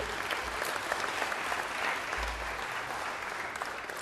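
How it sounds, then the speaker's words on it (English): Steady applause from an audience at an Italian American heritage celebration, dense clapping filling the whole stretch at an even level with a faint crowd murmur beneath. "Let's give her a round of applause and welcome Jenny."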